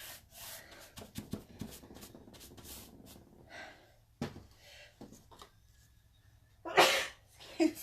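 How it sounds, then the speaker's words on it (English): A single sharp sneeze bursts out near the microphone during a furniture-painting session with a brush, loud and brief, following quieter brushing and rubbing sounds. "Oh no, I feel a sneeze coming on."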